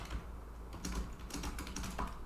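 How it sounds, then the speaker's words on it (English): Keys clatter on a computer keyboard as code is typed into a GitHub gist, a quiet, steady run of soft clicks with a few brighter bursts, no talking. "here I can type anything like let's say"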